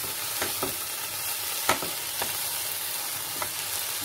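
Vegetables for spring roll filling stir-fry with soy sauce and vinegar in a pan, a continuous close crackling sizzle broken by a few sharp scrapes and knocks of the spoon.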